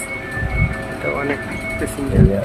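A light rail train in the Philippines slows into Baclaran LRT station with a rumbling, squealing brake tone and low thuds, while people talk over the noise.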